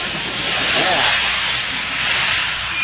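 Steady close hiss from a paint sprayer coating a Christmas tree white, a radio show sound effect, running broadband and continuous without a break.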